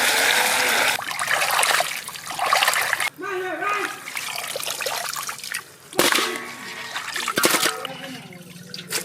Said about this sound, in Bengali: মাছটাকে আমরা ভালো করে ধুয়ে নেব।